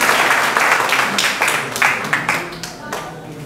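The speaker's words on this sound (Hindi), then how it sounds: "ज़ोरदार तालियां" Enthusiastic applause from a crowd at a Hindi poetry gathering, dense clapping that holds steady and then slowly thins out.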